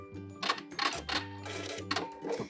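A sewing machine stitches a beanie seam in short rapid bursts, its motor whirring and needle clattering close by, pausing briefly between runs of stitching.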